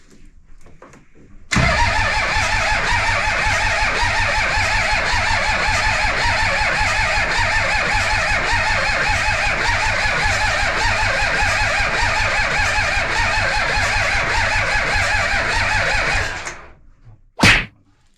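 An engine kicks into life after a short quiet spell, then runs loud and steady for about fifteen seconds before cutting out, followed by one brief final burst.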